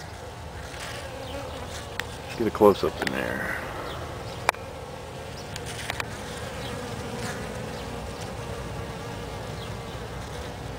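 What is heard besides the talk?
bees buzzing around yellow Trichocereus cactus flowers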